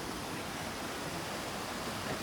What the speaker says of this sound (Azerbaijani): Şəlalə də qabaqda, şəlalə görünür